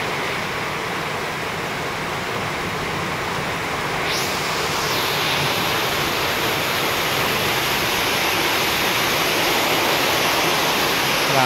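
Strong water rushes past a concrete hollow block in a steady, loud, unbroken roar like a torrent, filling the whole clip with dense close noise and no pauses.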